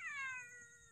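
A single short cat meow, clear and close, rising then trailing off in about a second.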